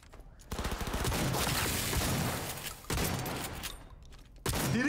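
Dense, loud gunfire from a firefight in Cyberpunk 2077 Phantom Liberty, with rapid bursts and heavy shotgun-like blasts filling the scene, cutting off and resuming in sharp waves.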